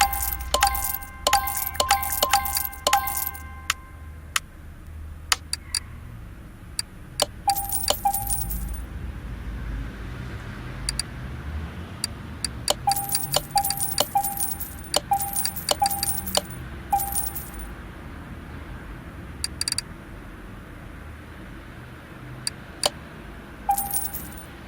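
Clutch parts being removed in Car Mechanic Simulator 2018 produce repeated metallic clicks, clinks and jangling tool sounds in scattered clusters, fairly close, over a low background hum, with no talking.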